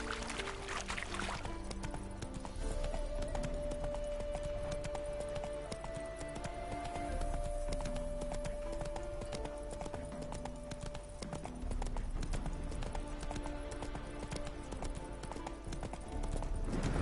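Horse hooves clip-clopping at a steady gallop in the video game The Witcher 3: Heart of Stone, a continuous rhythmic beat running throughout under game music and ambience.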